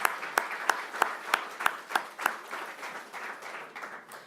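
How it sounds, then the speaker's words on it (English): An audience at a live announcement event in Burlington claps, starting with a few sharp, evenly spaced claps that spread into a brief round of scattered applause. "Let's give them a round of applause."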